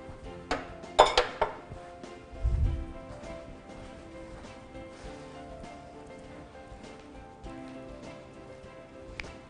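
Brownie batter stirred by hand with a spatula in a bowl: soft, irregular scraping and wet smacking, with a few clinks against the bowl near the start and a low knock, close and fairly quiet throughout.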